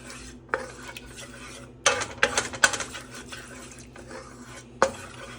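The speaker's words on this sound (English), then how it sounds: "Give this sauce a nice little stir." A spoon stirs steak sauce in a pan, giving irregular metallic scrapes and clinks against the cookware, close and fairly loud, with a soft background hiss between strokes.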